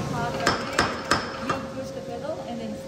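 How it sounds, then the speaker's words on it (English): Hammer blows knocking oxidation off a steel blade before honing and sharpening on a whetstone, four sharp metallic strikes at a steady, unhurried pace, close and clear over a faint steady hum. "we're going to be hammering off the oxidization first for this level"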